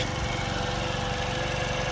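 A four-stroke motorcycle engine warms up at a steady idle, a continuous close, low mechanical drone with a fine rapid pulse and no speech over it.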